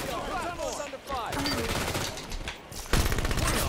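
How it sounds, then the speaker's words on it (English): Automatic weapons fire in bursts during a Halo 5 beta match, with rapid rattling shots layered over game effects while players talk. "I'm getting shot."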